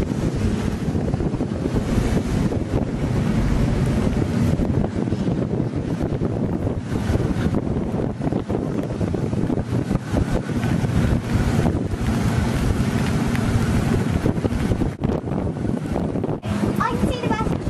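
Strong wind buffets the microphone throughout a boat trip, a constant roaring rush over the sea with waves and spray around the hull, while people talk beneath it.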